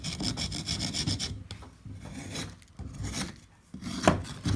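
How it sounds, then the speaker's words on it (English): A small hand file rasps back and forth along the edges of a hypertufa birdbath, close and fairly quiet, in a steady series of scraping strokes broken by brief pauses. "my little file will smooth up the edges a little bit, clean this up"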